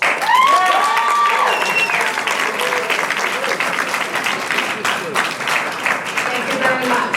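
A mayoral debate audience breaks into loud clapping and cheering with whoops, the applause sustained and gradually thinning toward the end.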